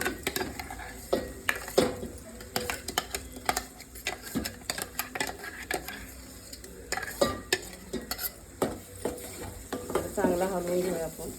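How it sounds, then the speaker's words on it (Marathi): Masala paste made with turmeric and homemade spice mix fries in oil in a pot, while a spoon stirs and scrapes in quick irregular knocks over a soft continuous sizzle. "चांगला हलवून घेऊया आपण तेल सुटेपर्यंत."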